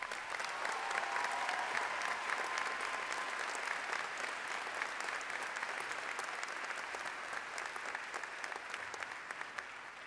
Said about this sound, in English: Would you give these young people another round of applause?